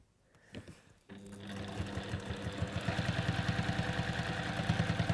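A sewing machine stitches fabric: after a second of faint clicks it starts up and runs steadily to the end, a close, rapid, even mechanical rhythm with a whirring motor.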